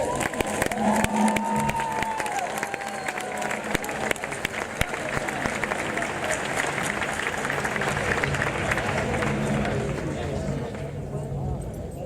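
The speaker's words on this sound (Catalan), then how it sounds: "Un aplaudiment." An audience at a community band concert applauds continuously, a dense and steady wash of clapping that holds for the whole stretch, with voices and a brief whistle mixed in near the start.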